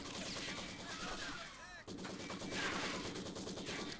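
Machine gun fire in Company of Heroes 2 crackles in rapid, continuous bursts at close range with a brief cut near the middle. It comes through loud and dense over the battle noise.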